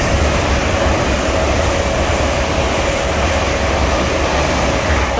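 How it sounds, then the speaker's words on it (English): LNER Class 800 unit 800111 passing at Potters Bar on the East Coast Main Line, bound for London King's Cross: a loud, steady broadband rush of a passing train that holds evenly throughout, with no talking. "that was 800111 of LNER service to London King's Cross"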